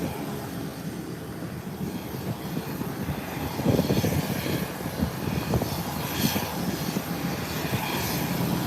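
An airplane engine drones steadily at Howard Hamilton International Airport, a broad, moderately loud roar that swells a little partway through and carries on without speech.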